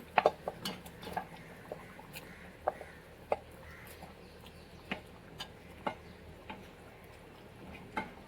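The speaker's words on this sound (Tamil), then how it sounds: "உருளைக்கிழங்க ஸ்மாஷ் பண்ணி நம்ம இது கூட சேர்க்க போகிறோம்" Potatoes are mashed in a pan for pav bhaji, with sharp irregular metallic clinks and taps of a utensil against the pan over a quiet background, close and intermittent.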